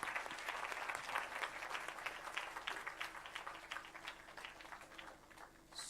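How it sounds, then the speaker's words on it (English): Steady applause from a symposium audience fills the room, many hands clapping continuously at moderate volume and easing slightly toward the end, with no talking over it. "a big round of applause for Ashok"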